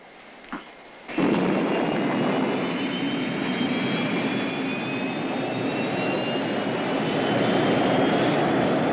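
A spacecraft engine ignites in a TV sound effect: a small click, then a sudden loud roaring rumble that holds steady and dense, with a thin rising whine over it as the craft lifts off.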